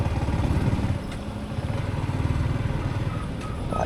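A motorcycle climbs a steep, curving snow-mountain road in Ladakh near Kargil, its engine putting steadily in a low, pulsing chug with slight rises and dips, close and continuous.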